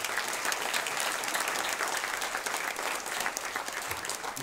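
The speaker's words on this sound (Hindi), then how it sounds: "एक जोरदार ताली" Audience applause at a Durga Puja celebration in a temple, a dense, steady burst of clapping from a crowd that holds at an even, loud level throughout.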